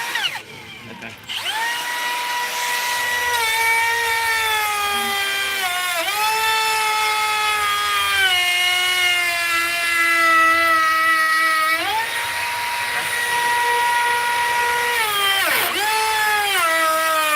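A Milwaukee router with a half-inch rabbet bit cuts wood, its high motor whine loud and close throughout, with the pitch dipping briefly several times as the bit bites into the wood.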